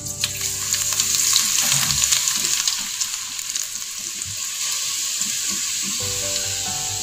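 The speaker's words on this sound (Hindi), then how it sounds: "जो हमने लहसुन चॉप्ड किया था वो हम इसमें शामिल कर देंगे, और इसको थोड़ा रोस्ट होने देंगे" Minced garlic roasts in hot oil in a wok, giving a loud, steady sizzle close up with scattered crackles and soft stirring scrapes throughout.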